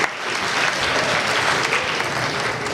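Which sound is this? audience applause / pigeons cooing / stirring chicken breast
audience applause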